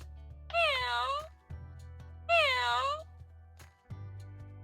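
Two clear, close kitten meows from a farm animal sound puzzle, each about a second long, followed by a click, all over a faint low hum.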